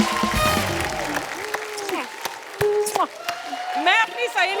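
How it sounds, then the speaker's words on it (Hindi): A studio audience at a comedy talk show claps in bursts while a host's amplified voice speaks loudly over it, with music and cheers rising near the end. "प्लीज तालियां बजती रहे"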